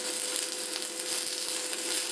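An arc welding electrode fills a nut onto a broken bolt with molten metal, giving a steady, close crackling sizzle that continues without a break.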